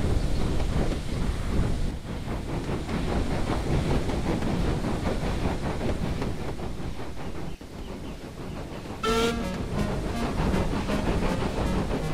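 A steam engine chuffs steadily along a railway line, with a rapid, even pulsing rhythm under a wind-like rush, then a sharp whistle shriek cuts in near the end.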